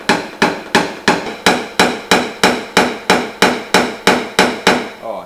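Hammer blows knocking a dent out of car body sheet metal, about a dozen sharp metallic strikes in a steady even rhythm, loud and close with brief ringing after each hit.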